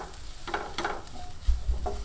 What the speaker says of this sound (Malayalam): അപ്പോൾ അത് നല്ലതുപോലെ ഒന്ന് പച്ചമണം മാറത്തക്ക രീതിയിലൊന്ന് ഇളക്കി കൊടുക്കുക